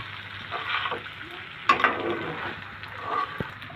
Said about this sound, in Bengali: আমি এখন নেড়ে চেড়ে ভালো করে মশলাটা পাস্তার সাথে মিশিয়ে নিব।